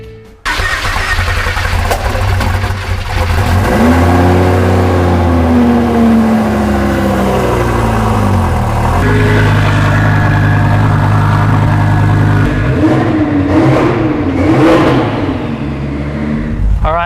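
A twin-turbo Lamborghini rated at 2,000 horsepower starts up and revs hard, loud and close, its deep loping idle rising and falling through repeated throttle blips with no talk over it.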